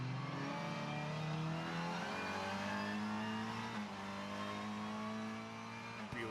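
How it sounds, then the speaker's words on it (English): Onboard engine of a TCR touring race car at Tailem Bend circuit, a loud steady drone that holds high revs and shifts pitch at gear changes, with no voices. "Beautiful onboard shots there, you can hear the engine of Aurelien Comte."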